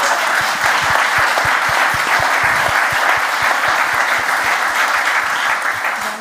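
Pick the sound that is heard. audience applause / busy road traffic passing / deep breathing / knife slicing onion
audience applause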